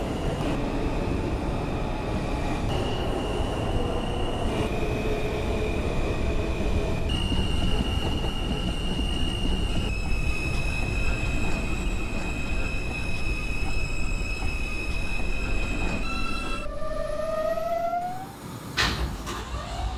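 An R160 M subway train in the OpenBVE simulator runs toward Bay Parkway with a loud, steady rumble and rising, stepping motor whines, ending in a squealing brake tone and sharp door chimes.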